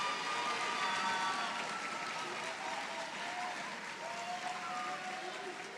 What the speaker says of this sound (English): Please give a round of applause to our cum laude students